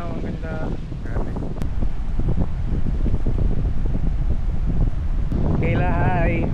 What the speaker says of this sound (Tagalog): Hindi ko alam kung naririnig niyo ako kasi sobrang lakas ng hangin ngayon.